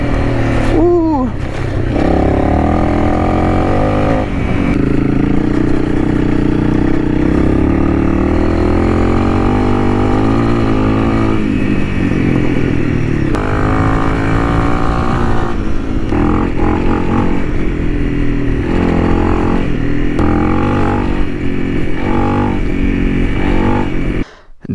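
A Honda CRF300L dual-sport motorcycle being ridden off-road, its single-cylinder engine droning loud and close with rising and falling revs as the rider shifts and accelerates throughout.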